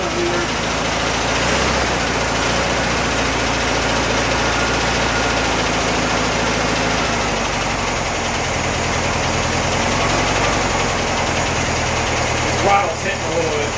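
A trash-picked engine swapped into a VW Bug runs at a steady idle, a loud, continuous rumble with a constant drone, ending in a brief clunk.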